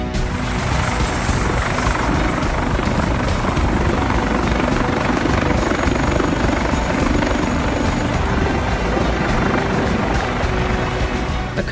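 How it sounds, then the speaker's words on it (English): Coast Guard helicopter in flight during a rescue mission in harsh weather, its rotor and engine a loud, steady broadband roar that holds constant throughout with no breaks. "A Coast Guard helicopter pilot had a really tough flight, braving harsh weather to take part in a rescue mission."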